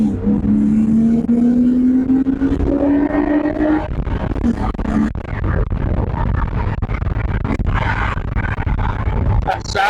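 A BMW E36 engine revving while being driven, rising in pitch through one long pull before a shift, followed by rough, bumpy road and wind noise.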